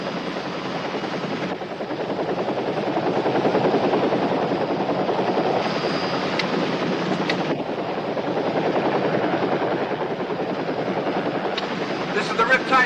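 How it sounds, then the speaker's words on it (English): A helicopter's rotor chops steadily overhead, a continuous throbbing drone swelling and fading slightly, with brief voices over it. "Cops don't fly pink helicopters."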